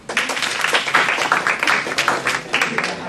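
A classroom or lecture audience claps in a dense, steady patter for about three seconds, moderately loud and close, with no speech over it.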